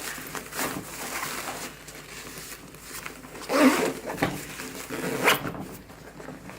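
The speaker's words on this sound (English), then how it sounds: "let's zip this up." A Helinox One Cot's fabric carry bag being zipped closed, giving a few close, scratchy zipper pulls with short pauses between them, heard alone.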